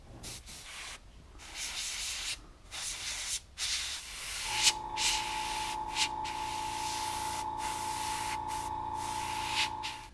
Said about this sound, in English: Now with the same green, I'm just gonna mist it.